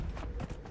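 Horse hooves clip-clopping in the Dragon Age Inquisition video game, a steady rhythmic trot on mountain ground with a faint background murmur.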